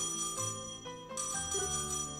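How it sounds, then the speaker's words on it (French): Inside the game Trails in the Sky, a telephone rings with a bright repeating electronic trill over soft background music, two ring bursts separated by a short gap. "c'est le téléphone, c'est ça?"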